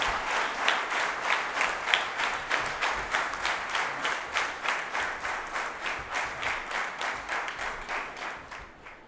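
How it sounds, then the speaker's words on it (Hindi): An audience bursts into sustained applause to welcome the chief guest at a business club launch event, with steady, dense clapping lasting throughout. "तालियों की बरसातों से उनका स्वागत करेंगे"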